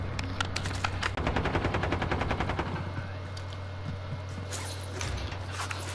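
Rapid automatic gunfire rattles in a video game, a close, steady burst over a low hum that gives way to a few scattered shots.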